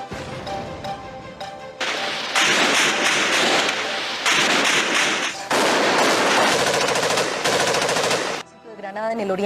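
Heavy machine gun fire from a guerrilla attack on the town of Granada, Antioquia, in 2000 rings out in long, loud sustained bursts with brief pauses between them, dense and continuous with no voices over it.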